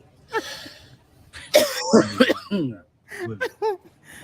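A few harsh coughs and throat clearing burst out up close, separated by short pauses and mixed with some mumbled voice sounds.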